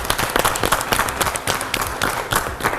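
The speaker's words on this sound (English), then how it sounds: "Can we give them a round of applause?" Audience at a secondary school quiz competition applauding: many people clapping densely and continuously at a fairly loud level for a few seconds.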